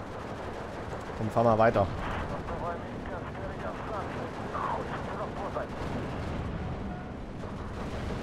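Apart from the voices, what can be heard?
artillery fire hitting tanks in video game Steel Division 2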